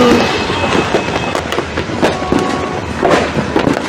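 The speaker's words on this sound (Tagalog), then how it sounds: "So, kumunti lang yung mga nag-fireworks na yun." New Year fireworks go off in a dense, continuous barrage of loud crackling bursts and sharp pops, layered one over another with no pause and no voices.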